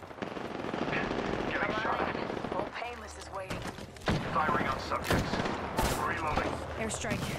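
Rapid machine-gun bursts rattle in a video game firefight, loud and near, with several volleys separated by short gaps and a voice talking over parts of it.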